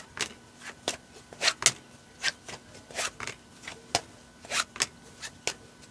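Tarot cards shuffled close to a sensitive microphone during a reading, a quick series of crisp riffling bursts and soft snaps repeating irregularly with brief pauses, alone without talk.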